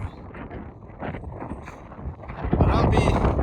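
Gusty wind on a hiking trail in Sweden buffeting the microphone with a rough, rumbling roar that swells louder toward the end.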